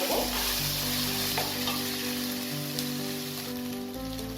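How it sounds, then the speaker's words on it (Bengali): Mutton biriyani masala with a teaspoon of ground cumin sizzles and crackles in a pan while being stirred, a steady close frying hiss with faint intermittent scraping throughout. "দিয়ে আরো 1 মিনিটের মতো আমি এটাকে নাড়াচাড়া করে দেব।"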